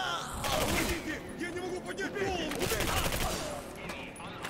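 Rapid automatic gunfire from the first-person shooter Singularity rattles in dense bursts, with a voice speaking over and between the shots.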